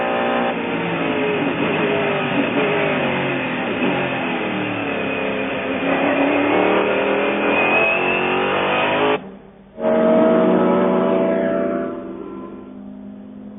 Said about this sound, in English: we've been privileged to ride with Christophe Bouchou in the Mercedes CLR.